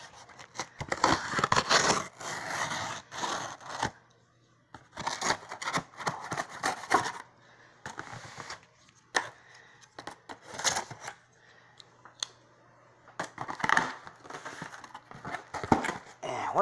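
Cardboard Amazon shipping box being sliced open with a knife, scraping and tearing bursts in several close, uneven strokes with pauses between them, a faint steady hum underneath.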